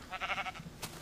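A sheep in a video game gives one short, quiet bleat with a wavering tone, followed by a brief faint click.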